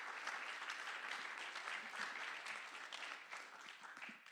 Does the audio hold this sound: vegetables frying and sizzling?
no